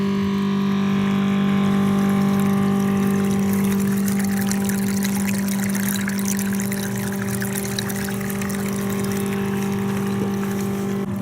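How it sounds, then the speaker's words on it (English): A solar-powered submersible pump drives water through a discharge line into a trough, giving a steady motor whine and a continuous rush of splashing water, close and fairly loud for the whole stretch. "The pump is actually moving water through the discharge line and out into our water trough."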